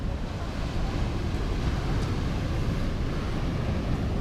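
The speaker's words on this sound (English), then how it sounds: "So let's go take a look at the ocean." Wind buffets the microphone at a beach beside the ocean, with a steady broadband wash of surf running loud and continuous throughout, no distinct breaks between waves and no voices.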